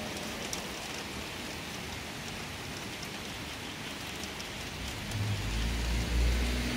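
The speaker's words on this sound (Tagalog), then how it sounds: "Ang lakas ng ulan." Heavy rain pours steadily in a dense hiss, with a low rumble swelling in toward the end.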